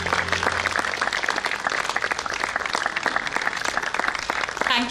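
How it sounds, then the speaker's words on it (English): An audience at a campus award ceremony applauds, producing dense, continuous clapping at steady high volume for the whole stretch, with a few voices faintly mixed in near the end. "Heartiest congratulations and a huge round of applause."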